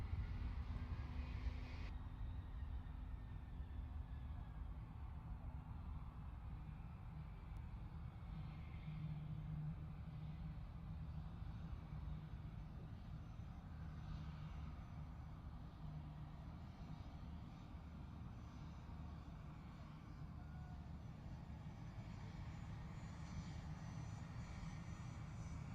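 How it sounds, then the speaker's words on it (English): Progress D-436 turbofans of an Antonov An-178 regional jet power up at Farnborough International Airshow, heard as a distant, faint, steady engine roar with a low rumble lasting throughout. "Power coming up on the Antonov, on the Ant, the 178."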